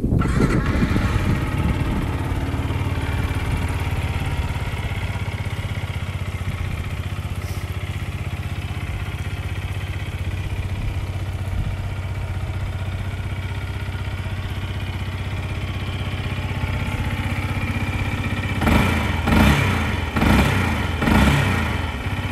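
A 2017 Yamaha YZF-R125 125cc learner motorcycle engine idles steadily up close after starting, then gives several short sharp revs near the end.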